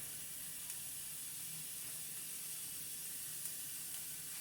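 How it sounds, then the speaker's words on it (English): Sausage fries in a pan for a quiche, giving a steady, soft broadband sizzle and hiss that runs evenly throughout with a faint low rumble beneath and no talking. "Let that fry a little bit."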